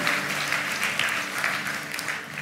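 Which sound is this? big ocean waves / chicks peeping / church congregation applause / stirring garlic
church congregation applause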